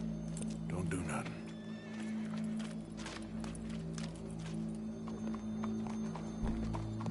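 Horse hooves clip-clopping in Red Dead Redemption 2, a steady walking rhythm set against a low humming game ambience, with voices talking over it.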